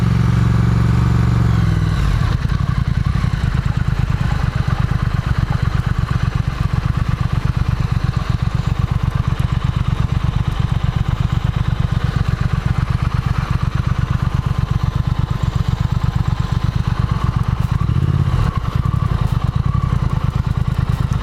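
A 2018 Triumph Thruxton motorcycle rides off-road, its engine running loud and steady throughout, with a rhythmic low thrum and rattling clatter from rough ground. It cuts in after a brief quieter start.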